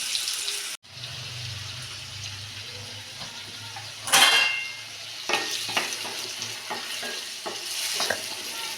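Onion and tomato sautéing in hot oil with mustard seeds and cumin, a steady close sizzle with stirring scrapes and a few sharp clinks of a spoon against the pan.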